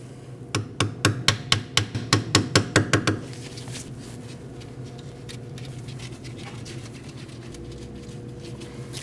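An ABS sensor is tapped into its bore on a Jeep Cherokee rear wheel knuckle, about a dozen quick, sharp metallic taps in steady rhythm, followed by quieter handling noise.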